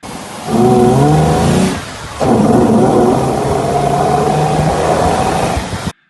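A Mitsubishi V6 car engine revs loudly up close, rising in pitch, dipping briefly, then roaring again at a steady high pitch before cutting off abruptly.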